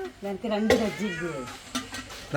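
A house cat meows several times in short, close calls while catching a mouse at home, with a person talking in between.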